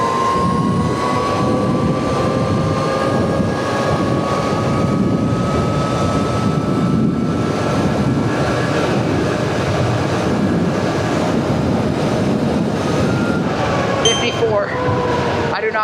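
An electric bike fitted with an ETM RTR mod motor runs flat out at top speed, its steady high motor whine rising slightly over constant wind and road rush, with no pauses.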